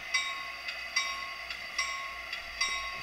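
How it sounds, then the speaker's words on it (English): Rhythmic clicking of wheels over rail joints from a small SD60i model diesel locomotive with a Tsunami sound decoder, with a steady engine hum and periodic bright ticks, close by. "The locomotive that you see coming into view is an SD60i."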